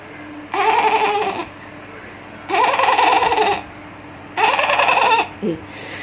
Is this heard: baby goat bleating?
yes